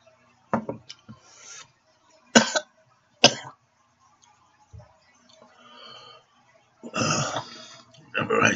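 Several short, sharp coughs come in separate bursts with pauses between, followed by a longer rough, raspy throat sound toward the end.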